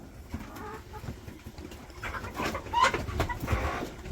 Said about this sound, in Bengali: ওই যে কতগুলো আইসে কোয়েল, সবগুলো এসে বসছে